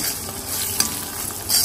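Tempering spices sizzle and fry in hot oil for lemon rice, a close, steady crackle with a brief stirring scrape partway through and a louder hiss at the end.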